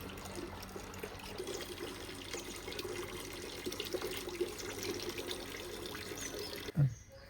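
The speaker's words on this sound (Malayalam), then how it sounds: "ഞാൻ ഈ കൊന്നയില മിക്സ് ചെയ്ത വെള്ളം ഞാൻ ഇതിൻ്റെ അകത്തോട്ട് ഈ ചെറിയ പാത്രത്തിലോട്ട് ഞാൻ ഒഴിച്ചിട്ടാണ്" Konna leaf fertiliser water for orchids trickles quietly as it is poured into a small vessel, a faint continuous pour ending in a brief knock of the container.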